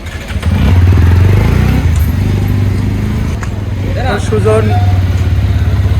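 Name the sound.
Honda motorcycle ride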